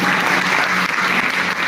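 A crowd at a school event applauding loudly and steadily, a dense wash of clapping that holds throughout without a break.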